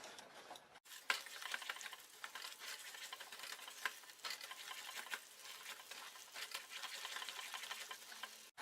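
Jaggery melting and boiling in a pan over medium heat for tilkut, stirred continuously: soft sizzling and bubbling with repeated scraping strokes of the spoon, quiet and close.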